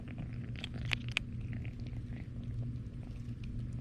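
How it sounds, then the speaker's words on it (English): A cat purrs close by in a steady, low, continuous rumble lasting several seconds, broken only by a couple of brief sharp clicks. "Their purrs can heal bones."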